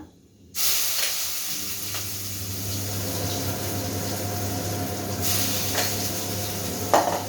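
Ground green chili, garlic and ginger paste hits hot oil that has already popped cumin and mustard seeds, setting off a loud, steady sizzle and hiss that holds right to the end with a few faint clinks of a utensil.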